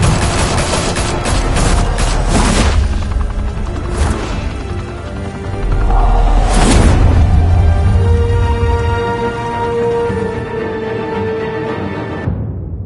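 Gunmen open fire in a Batman video game set in Gotham, a loud sustained fusillade of rapid automatic gunfire with crashing bursts and booms, dense and continuous, easing near the end.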